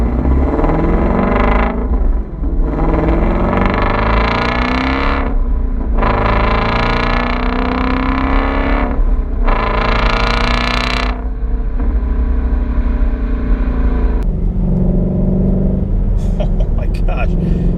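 A 2016 Ford Mustang Shelby GT350 V8 engine revs hard in several rising bursts, each climbing in pitch before cutting back, loud and close, with a voice talking over it.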